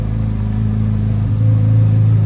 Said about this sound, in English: listen to that exhaust, just idle there